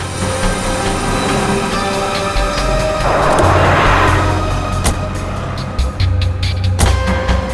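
A car's engine hums steadily throughout, with a loud rustle and a thud midway, like someone climbing in and settling into the seat; no voices.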